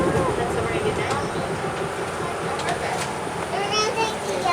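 A Cog Railway train in New Hampshire rumbles and rattles steadily at moderate distance, while children's and adults' voices chatter over it throughout.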